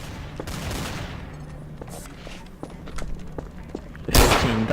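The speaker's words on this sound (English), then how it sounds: "Dude, some guy just shot me." Gunfire in the video game Garry's Mod, with a burst of rapid shots and thuds running under game noise, ending in a loud, close blast near the end.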